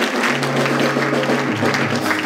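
Church congregation applauding together, a steady dense wash of clapping with some crowd noise and a low sustained hum underneath.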